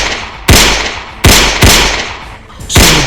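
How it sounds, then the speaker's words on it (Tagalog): Revolver shots strike a carriage during an ambush: four sharp, loud, close cracks at uneven intervals, each with a short thudding decay. "sunod-sunod na putok ng baril ng revolver ang tumama sa kanilang karwahe"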